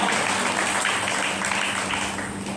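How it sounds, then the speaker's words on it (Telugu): A church congregation claps continuously, a dense, steady wash of applause filling the whole stretch without pause. "చప్పట్లు కొట్టి దేవుని మహిమపరుద్దాం"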